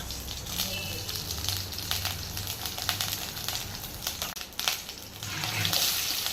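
Vadagam seasoning fries in sesame oil for a vanjiram fish curry, giving a soft, steady sizzle and crackle with a few faint clinks, fairly quiet throughout.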